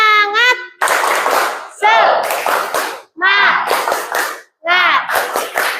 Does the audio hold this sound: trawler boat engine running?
no